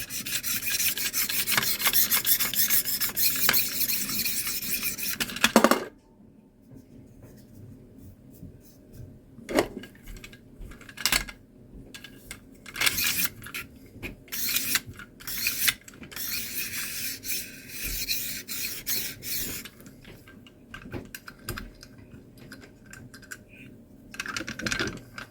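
Knife blade scraped back and forth across a stone on a Cold Steel benchtop sharpener: a loud, continuous rasp for the first few seconds, then quieter, uneven strokes and scrapes with short pauses between them. No one speaks.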